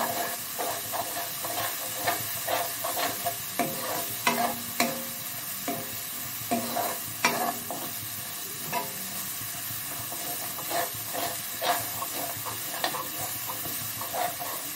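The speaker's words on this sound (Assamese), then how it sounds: "গৰম মছলা চছলা তো এইখিনি বঢ়িয়াকৈ ভাজি ল'ম এতিয়া" Garam masala spices frying in a pan, a steady soft sizzle broken by repeated stirring scrapes and clatters at an irregular rhythm, close and fairly quiet, with no one talking.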